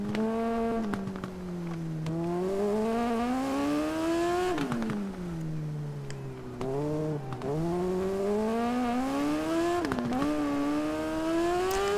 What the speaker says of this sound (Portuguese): Essas motos também tem muito arranque.